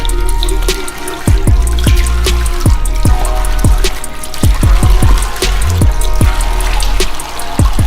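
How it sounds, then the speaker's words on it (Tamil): Water splashes from a running tap while a banana face mask is rinsed off, with repeated sharp splashes and drips over a constant rushing flow, loud and close. "So I'm just going to wash of my mask."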